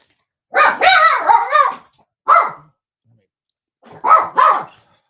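Dogs bark loudly and close, a rapid cluster of sharp barks followed by a single bark and then a final pair, separated by silent gaps.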